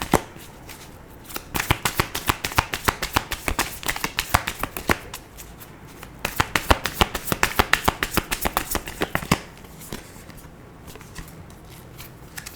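A deck of tarot cards shuffled by hand in three bursts of rapid riffling clicks, separated by short pauses, close and fairly loud with no talking.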